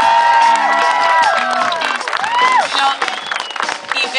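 An audience at a Children's Day community arts event cheers, shouts and claps, with children's high voices prominent in a loud, lively burst of noise that lasts a few seconds.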